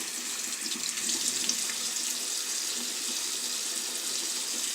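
Tap water runs steadily into a sink while a cleansing brush is rinsed, a continuous close splashing stream with no voice.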